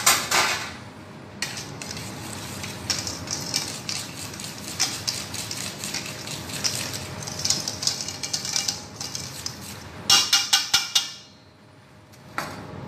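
Whisking in a bowl while preparing a simple homemade recipe with almond powder: rapid, steady metallic clicking and scraping of the whisk against the bowl runs close and loud for about ten seconds, ending in a few sharper taps.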